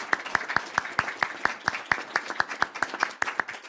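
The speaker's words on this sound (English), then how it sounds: "another little round of applause for you on the group" A small group claps after a seminar session on federalism and democracy, individual claps landing in a fairly regular, distinct rhythm, moderately close and spaced rather than a dense roar.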